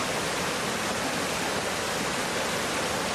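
A small stream cascades down three rock steps of 0.5, 1.5 and 1.6 metres in an Estonian klint valley, giving a dense, steady rushing roar that continues unbroken.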